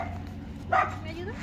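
A single short dog bark rings out near a work site, standing a little above low background rumble, with people talking around it.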